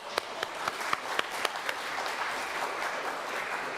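A church congregation applauds during a Sunday service, with steady, fairly dense clapping and a few sharper claps standing out near the start before settling into an even wash.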